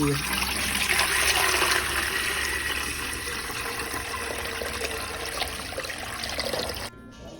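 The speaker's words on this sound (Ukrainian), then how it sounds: "Беремо кастрюлю і вливаємо туди 3 літра води." Water pours steadily into a pot, a continuous close gushing and splashing that cuts off abruptly near the end.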